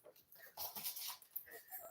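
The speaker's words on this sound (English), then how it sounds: "The dog is freaking out." A female dog whimpers and whines in short, high, wavering bursts, close by and fairly soft, with quiet breathing between cries.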